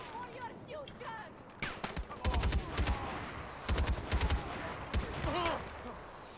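Bursts of gunfire in Far Cry 4, several rapid volleys of shots ringing out loud and close, separated by short gaps, with a voice talking faintly in between.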